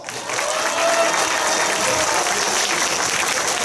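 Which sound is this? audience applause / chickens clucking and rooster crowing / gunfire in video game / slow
audience applause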